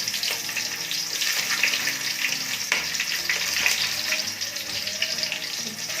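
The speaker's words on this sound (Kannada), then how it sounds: "ಕರಿಬೇವಿನ ಸೊಪ್ಪೆಲ್ಲ ಹಾಕೊಂಡು ನೀಟಾಗಿ ಫ್ರೈ ಮಾಡ್ಕೋಬೇಕು." Onions, curry leaves and whole spices such as bay leaf, cloves and cinnamon frying in a pan for mushroom pulao, giving a steady, close, continuous hiss and sizzle with no talking.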